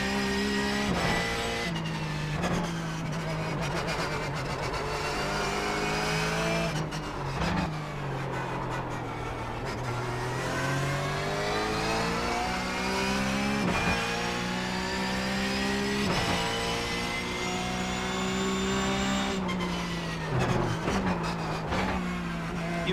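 A Porsche 911 GT3 Cup race car in iRacing, its engine droning steadily and loudly as it accelerates, with revs climbing and dropping through gear changes and faint tire scrubbing, with no talking.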